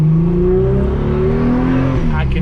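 An Audi S4 engine revving steadily around 2000 rpm with its clutch slipping, a loud, close, droning tone that rises slightly in pitch.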